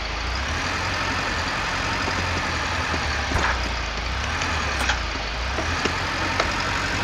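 A farm tractor engine in Pure Farming 2018 running at a steady low drone, close and continuous, with a few faint clicks and knocks on top and no speech.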